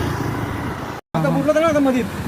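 A small auto-rickshaw engine rattles and drones steadily nearby near the Ulhas River at Vangani, cutting out for a split second, with a person talking over the motor noise.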